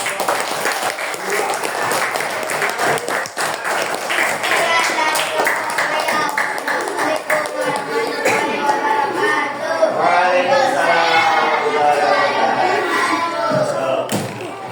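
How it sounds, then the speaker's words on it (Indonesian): A sixth-grade physical education class claps and cheers together as a group, a loud, continuous patter of many hands with scattered thumps and rising voices shouting over it. "kita kasih tepuk tangan dulu"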